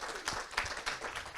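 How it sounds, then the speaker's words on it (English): Seminar audience at a three-day business training event clapping for an attendee, a brief burst of many hands with uneven peaks, moderately loud in a room. "Give her a big round of applause"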